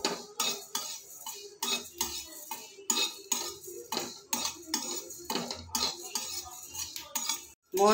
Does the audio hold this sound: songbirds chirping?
no